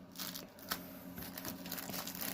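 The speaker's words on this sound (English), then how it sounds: "Their canvases always come in a plastic bag." A plastic bag holding a stamped cross stitch canvas is handled up close, giving soft, continuous crinkling and rustling with a few sharper crackles over a low steady hum.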